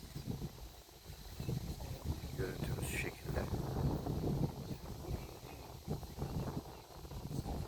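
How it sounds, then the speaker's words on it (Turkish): Gusty wind buffeting the microphone outdoors on a clifftop coast in Niterói, Brazil, with low rumbling swells and a person talking intermittently underneath. "Bu taraf biraz rüzgarlı."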